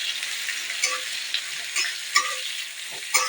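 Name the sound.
chopped onions frying in oil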